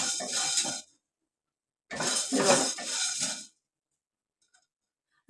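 Whole garam masala spices, including nagkesar, are dry-roasted together in a pan over a medium gas flame, making two close bursts of rattling and scraping separated by silence.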